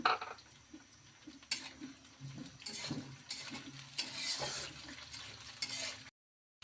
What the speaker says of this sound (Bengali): টমেটোটাও ভাইজা নেব একটু